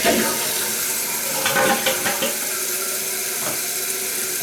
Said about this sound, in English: if you flush this and hold on to it, you're taking all the water down